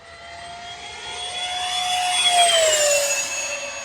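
An E-flite Habu XS 80mm electric ducted-fan RC jet screams past at high speed, a loud steady whine climbing and swelling to a peak before the pitch drops slightly as it passes, with no talking.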